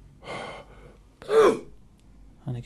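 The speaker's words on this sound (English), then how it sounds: "Okay, and give me a cough." A patient with systemic sclerosis and pulmonary hypertension coughs during a chest examination: three short, breathy bursts, close by, with quiet pauses between them.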